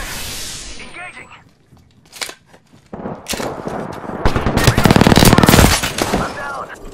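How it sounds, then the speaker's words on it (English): Apex Legends gunfire plays in rapid automatic bursts, building from scattered shots to a loud, dense volley near the end, with in-game voice callouts over it. "Taking fire! Engaging!"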